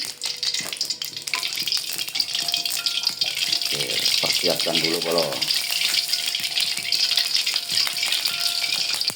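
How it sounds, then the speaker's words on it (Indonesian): Potatoes frying in hot oil, a steady close sizzle and crackle that runs throughout, with a short spoken exchange partway through. "Masih goreng kentang dulu ya"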